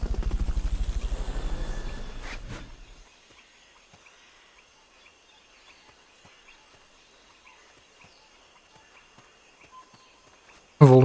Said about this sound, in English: Onboard helicopter.